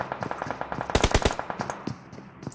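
Rapid automatic gunfire in a tunnel fight in a multiplayer shooter video game, loud sustained bursts with a sharp peak of shots midway, then fading to scattered shots.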